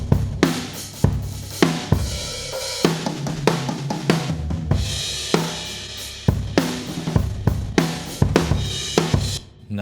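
Drum kit tracks with Altiverb reverb ambience mixed in at about 35%, a steady groove of punchy kick and snare hits with cymbals, loud and close with a roomy tail, no talking.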